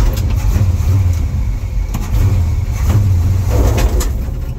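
A car fitted with a 4-speed Muncie transmission rolls down the road, a steady loud engine and drivetrain rumble with road noise, heard from inside the cabin with no talking.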